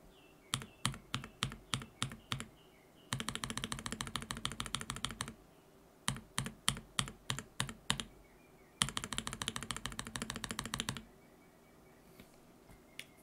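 Mechanical keyboard switches, Joininkeys Prince and Zealios v2, typed on in close, crisp clacks, alternating between slow single key presses and rapid bursts of fast typing, with short pauses between runs.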